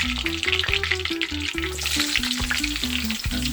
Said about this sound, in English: I'm just gonna add my carrots, let them brown up a little bit.